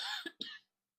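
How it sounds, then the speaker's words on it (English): A short, close double cough from an adult, two quick bursts within half a second, then silence. "I did not want you guys to listen to me cough."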